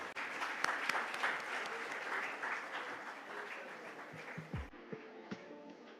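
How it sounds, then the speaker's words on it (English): Audience clapping steadily for school participants at a Read India launch celebration, a dense, fairly loud round of applause that thins out toward the end. "Please, a round of applause to all."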